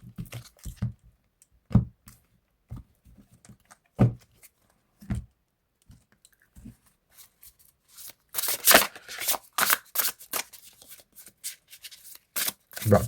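A deck of cards is shuffled during a card reading, first with sparse soft handling taps, then with a busy run of crisp riffling bursts close by, and no voice over it.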